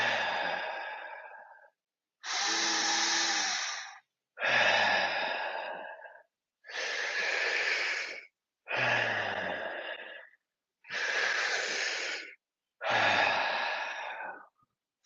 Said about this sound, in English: Deep breaths, filling up our lungs and letting the air go